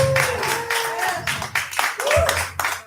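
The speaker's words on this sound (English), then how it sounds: "Give him a round of applause." Applause rises from a crowd at a live nightclub show in Gainesville, Florida, with tonal voices and whoops cutting through the clapping over about three seconds.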